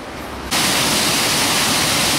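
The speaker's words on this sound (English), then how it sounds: "Now we can see the waterfall." Steady broadband roar of rushing water begins abruptly and continues loud and unbroken, like a waterfall close by.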